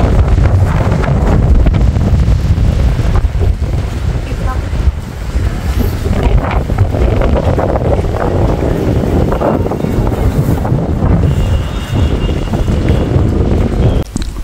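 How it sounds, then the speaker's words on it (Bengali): Strong, stormy wind roars outside on a rooftop at dusk as the first rain after winter approaches, a loud, continuous rush buffeting the microphone for the whole stretch, with occasional voices underneath. "বাইরে অনেক জোরে একদম তুফানের মতন, অনেক ঝড়ের মতন বাতাস"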